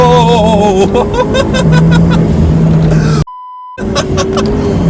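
A turbocharged Toyota 86 accelerating hard, its loud engine note climbing steadily in pitch under harmonic whine, then cut off abruptly by a brief steady electronic beep before the engine roar resumes.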